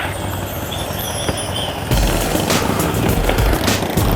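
A car's exhaust scraping along the road at dusk during a race, a sudden loud grinding burst that starts midway over steady engine noise and persists to the end.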